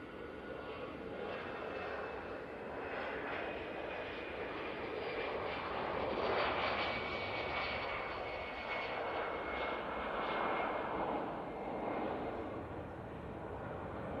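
An Airbus A330 jet lands at Manchester Airport after a six-hour flight, its engine roar steady and broad, swelling slightly mid-way as the left rear gear touches down first and the right follows.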